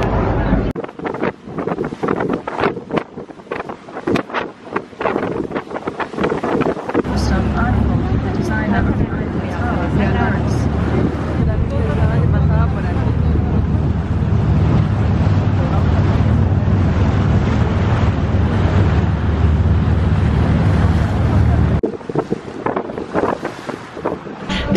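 River cruise boat out on the water in Porto, a steady engine rumble mixed with heavy wind buffeting the microphone for most of the stretch, with people talking near the start.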